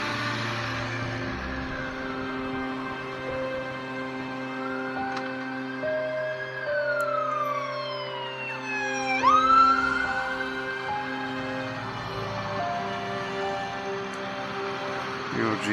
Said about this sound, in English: Yeah, there's an ambulance behind me. Get out of the intersection.